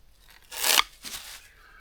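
Two quick cuts through a kava root nodule, the first a louder crunchy snip and the second softer, close and alone against a quiet outdoor background.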